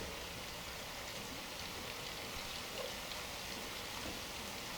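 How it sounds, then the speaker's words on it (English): Heavy rain falls as a steady, even hiss throughout, fairly faint and with no voices over it. "This rain is heavy."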